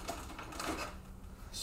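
An airbrush spraying gray paint onto a shirt background: a steady, close, airy hiss that swells and eases with short pauses, lasting the whole brief moment.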